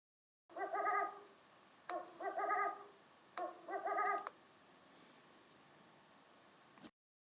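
Owls give three faint, evenly spaced bursts of warbling hoots over a quiet hiss, followed by a few seconds of near-silence.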